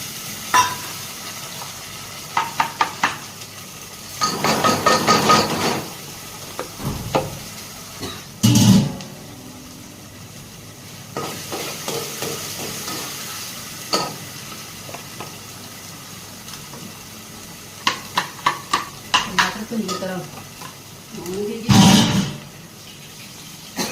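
Tomato tadka frying and sizzling in a pan while it is stirred, with spoon clinks and scraping strokes coming in bursts, close and moderately loud, with no one talking.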